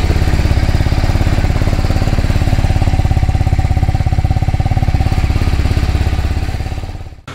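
A 2020 TVS Apache RR 310 motorcycle engine idles close up with a rapid, steady thumping rhythm, loud and continuous, cutting off abruptly near the end.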